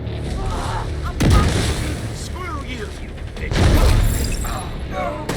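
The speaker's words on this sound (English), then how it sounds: "you throw a nade, and just launch 2 nades" Two grenade explosions in The Division 2 video game sound as loud booming blasts about two seconds apart, over steady game background noise.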